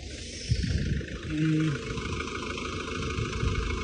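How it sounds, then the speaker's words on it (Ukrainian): A Vauxhall car engine idles steadily with a low, continuous hum, while a voice talks briefly over it. "Двигун працює непогано"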